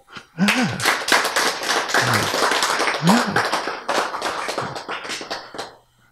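An audience at a lecture or church gathering claps in a loud, sustained round of crisp hand claps, with a voice speaking over the start and again partway through before the clapping fades out.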